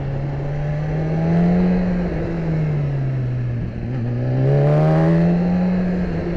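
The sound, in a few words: BMW S1000RR motorcycle engine riding in first gear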